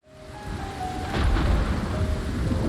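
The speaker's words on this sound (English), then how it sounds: "Is it possible to have rain and fog at the same time?" Rain pours steadily in Project Zomboid while a thunderclap rumbles in and swells, a heavy low roll building under the downpour and staying loud to the end, with no talking.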